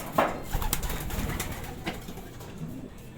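Racing pigeon arriving at the loft during a 213 km derby race, with soft cooing and bird calls amid outdoor ambience and a few brief flutters.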